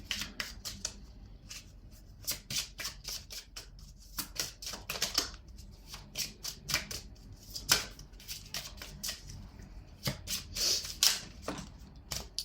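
Oracle cards shuffled by hand in a quiet room, a steady run of crisp, close flicks and riffles with short pauses, no one talking.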